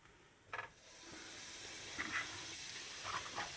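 Butter sizzling in a heated omelette pan, a steady soft hiss rising after a brief clatter, fairly faint with a few light spatters.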